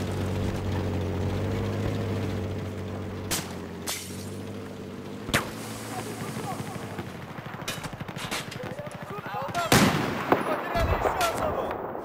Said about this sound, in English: We're getting sniped at, but I don't know from where.